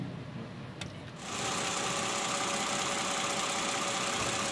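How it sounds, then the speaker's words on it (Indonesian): Toyota Camry 2GR 3.5-litre V6 engine idling after a tensioner replacement, a steady close engine hum that swells in after a second and then runs evenly without a break. "Sekarang mesinnya udah hidup. Ini bunyinya sudah hilang nih ya."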